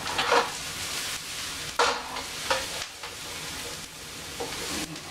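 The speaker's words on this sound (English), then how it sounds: "Our onions, our garlic, they're sweating. Just trying to keep them from browning. Keep them moving." Onions and garlic sweat in a pan while being stirred, giving a steady soft sizzle with several louder scraping stirs spaced through it. No one talks.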